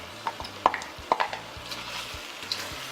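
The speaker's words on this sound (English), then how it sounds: "Bring all of that together and let it simmer just for about a minute." Sliced red peppers, onion, green onion, celery and leeks simmering in a pan for gourmet gizzards, with a few sharp utensil clinks and stirring knocks over a low steady sizzle, fairly close.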